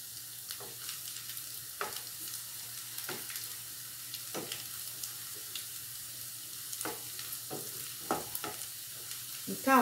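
Zucchini sautéing in a pan for a farofa, a steady soft sizzle with scattered sharp clicks of a utensil against the pan, fairly quiet and without talk.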